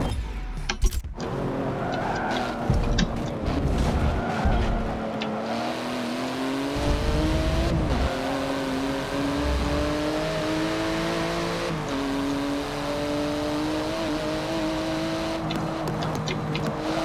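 Fast race car engines in Forza Motorsport 7 roar and rev close by, pitch climbing through the gears with brief shifts and throttle lifts, a sustained loud mechanical whine with occasional clicks.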